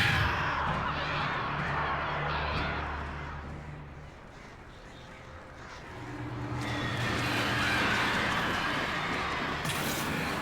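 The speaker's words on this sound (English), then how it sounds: "I think crows are just so adorable with their little hops and being scared of everything in sight" Crows in the video game Alan Wake give several harsh caws over a noisy game soundscape, calls clustering early and again near the end, loud against a rumbling background.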